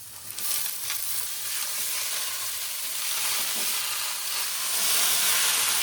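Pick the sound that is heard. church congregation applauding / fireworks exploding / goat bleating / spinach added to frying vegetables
spinach added to frying vegetables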